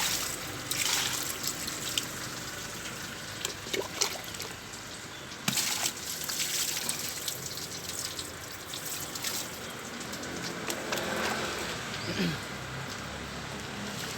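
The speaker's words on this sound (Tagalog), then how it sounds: "babanlawan natin siya ng tubig" Water trickles and splashes steadily for a long stretch as a 2017 Mitsubishi L200 engine is rinsed after soaping, with occasional louder spatters and drips, fairly quiet and with no voices.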